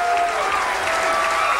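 Bowling fans applaud at the Seattle Center's Fisher Pavilion in Seattle, Washington, steady dense clapping filling the hall throughout with a faint murmur of crowd beneath.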